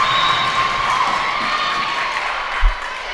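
Crowd cheering and shouting in a gym at a high school volleyball district match between Big Rapids and Reed City, a steady roar of voices with a brief thump.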